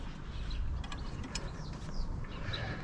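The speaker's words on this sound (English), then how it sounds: "And then one final bolt on this side, which is a 6mm Allen key." A 6mm Allen key turns a bolt on an engine guard for an Aprilia Tuareg 660 motorcycle, giving faint, close metallic ticking and light ratchet-like clicks over a quiet background.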